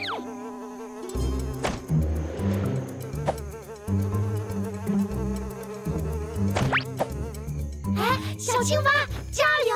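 A cartoon mosquito in Boonie Cubs buzzes in whining, wavering passes over bouncy background music, with animated voices talking and cheering in between.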